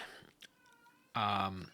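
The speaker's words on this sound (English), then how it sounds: "and that's the cat meowing, guys." A cat gives a loud, drawn-out meow up close after a moment of quieter sound and a faint tonal hum.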